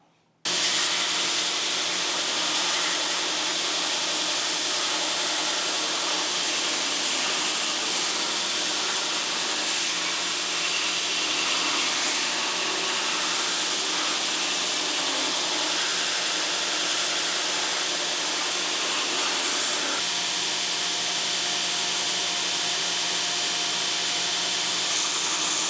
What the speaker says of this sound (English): I'm going to go ahead and sand these together